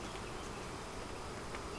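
Honeybees buzz at an open hive while two of its frames are combined into another: a dense, steady hum of many insects, close and even throughout, with no voices.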